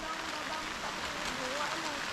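Steady rain falls over a vegetable farm with eggplant plants, an even hiss of drops on surfaces that continues without break at moderate level, with no voices.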